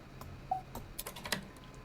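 In a Roblox game, a proximity prompt plays a typing sound effect: a short run of light, crisp keyboard clicks, fairly quiet and irregular, with no talking.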